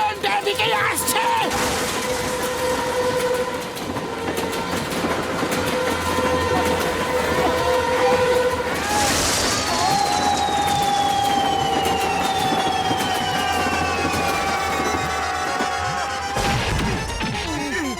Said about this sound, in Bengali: ট্রেনটা এদিকেই আসছে।